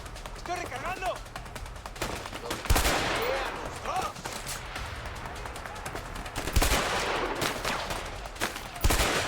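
Sniper-like rifle fire in the video game A Way Out: three sharp, loud shots spaced a few seconds apart, cracking over busy in-game ambience and faint chirps.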